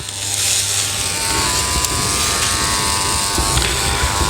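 Electric hair clippers fitted with Freestyla clipper guides buzz steadily and close up while cutting a boy's hair at home, a continuous even hum with no talk.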